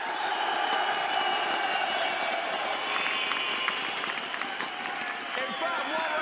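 A large crowd applauds at the Blast Pro Series esports grand final in Lisbon, a dense, sustained wash of clapping and scattered cheers filling the arena with no speech over it.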